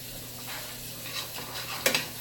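A tablespoon of flour stirred and cooked in a sizzling pan for spicy creamy Cajun chicken and shrimp, with a soft steady sizzle under scraping stir strokes and a couple of sharper utensil clinks near the end.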